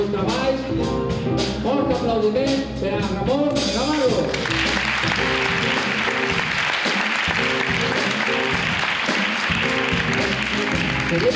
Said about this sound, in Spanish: Aplaudiment per a Ramon Navarro